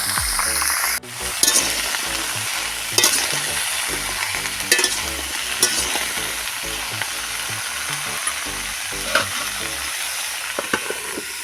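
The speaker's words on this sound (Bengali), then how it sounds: "আমি এইভাবে সবগুলো ভেজে নেব।" Mixed vegetables fry in a pan with a loud, close, continuous sizzle, while a spatula stirs and scrapes in irregular knocks and clatters throughout.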